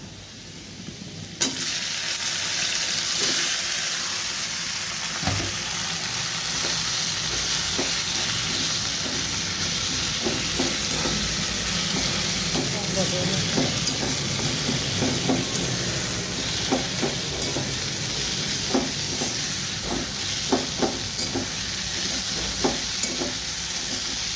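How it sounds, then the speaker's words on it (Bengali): Leafy greens stirred and fried in a pan with garlic that has already browned, giving a steady close sizzle broken by repeated scraping clicks of the stirring spoon, with no voices. "তখন আমি শাকটা দিয়ে দেবো।"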